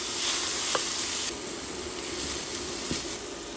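Finely chopped onion fries in two to three tablespoons of oil in a frying pan, a soft steady sizzle and hiss at close range with a couple of faint clicks, no voices.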